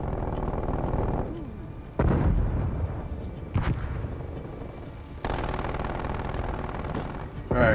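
An enemy sentry turret fires in a video game: sustained rapid bursts of automatic gunfire with sharp impacts and explosions, loud and close, separated by short pauses.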